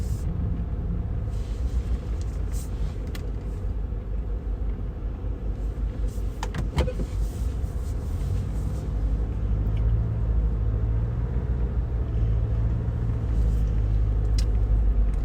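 A new Land Rover Defender pulls off a snowy driveway, its engine giving a steady low rumble with crunchy road noise throughout and a brief knock partway through, close and continuous, with no talking.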